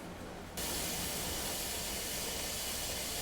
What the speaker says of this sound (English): now that I have a pretty constant flow of steam coming out